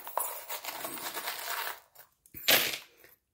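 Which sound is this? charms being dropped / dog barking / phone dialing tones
charms being dropped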